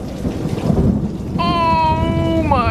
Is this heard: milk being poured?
no